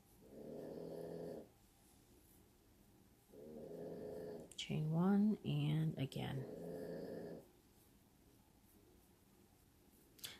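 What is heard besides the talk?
dog snoring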